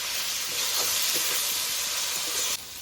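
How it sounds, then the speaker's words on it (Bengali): Steady sizzling of fried potatoes and spices in a pan, with soft scraping stir strokes now and then; no voices. "নেড়ে চেড়ে ভাজা আলুটার সঙ্গে আর মশলাটা কষিয়ে নেব"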